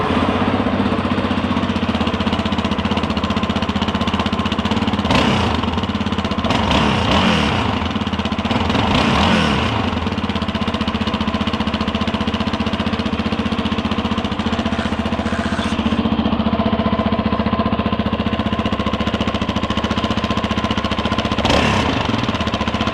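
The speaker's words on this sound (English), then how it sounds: "let's give this a start up so you can hear the stock exhaust" A 2023 Yamaha Raptor 700 ATV with its stock exhaust runs steadily nearby, a loud continuous engine drone with a throbbing idle that holds for the whole stretch, with no talking.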